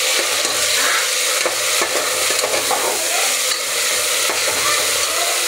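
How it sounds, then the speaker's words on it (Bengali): Chopped tomatoes and onions frying in a pan, with a bright, constant sizzle broken by repeated stirring scrapes close to the pan and no voices. "টমেটোটা হালকা করে ভেজে নিয়েছি"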